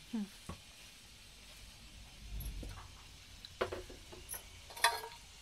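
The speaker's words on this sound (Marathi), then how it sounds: "इकडे चालू आहे मस्तपैकी कचोऱ्या काढणं गरम गरम" Kachoris frying in hot oil in a home kitchen give a quiet, intermittent sizzle with scattered soft crackles and ticks, faint throughout.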